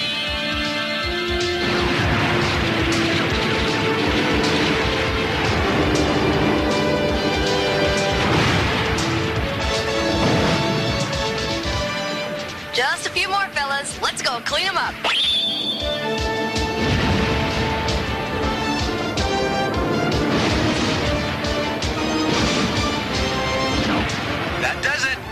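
Heavy crashing impacts of a photon battle axe in the GoShogun anime, loud booming strikes over a dense music score with dialogue spoken between the blows.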